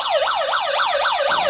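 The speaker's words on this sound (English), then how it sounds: "Now this one's the siren." A Prextex remote control toy police car plays its electronic siren, a loud, close, rapidly rising and falling wail that repeats about five times without pause.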